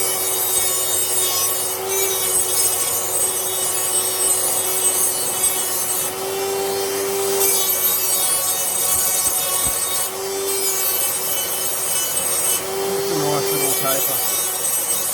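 Smoothing and tapering the edge of a TTR250 big-bore cylinder bore, a loud continuous rasping rub with rhythmic strokes and a high whining tone cycling every few seconds, no speech.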